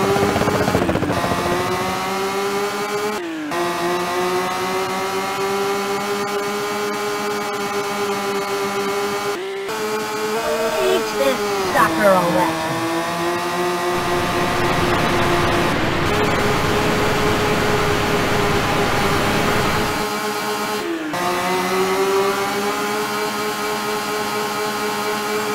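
Race car engines in the Rage Racer video game whine steadily and loud, pitch sliding up and down with gear changes and brief cuts, running continuously for the whole stretch with no talk.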